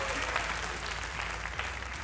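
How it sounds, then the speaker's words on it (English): Clapping added as a sound effect over Fallout 4 settlement-tour footage, a short steady patter of applause with faint murmuring underneath. "You should add like clapping right there"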